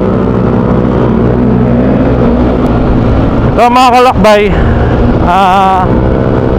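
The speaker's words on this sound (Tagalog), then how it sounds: "bali apat na motor kami. Dalawang NMAX, isang MT-15, tsaka isang XSR." Group of four Yamaha motorcycles (two NMAX scooters, an MT-15 and an XSR) riding on the road in northern Luzon, with a steady loud engine and wind roar throughout and someone talking over it.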